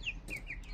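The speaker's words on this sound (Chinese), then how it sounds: "我妈最爱这种鸡，她说这种鸡啊特别的好养" Short clucks from a black-feathered chicken come in quick, separate bursts, close and fairly faint, over low farmyard background noise.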